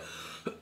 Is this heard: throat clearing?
yes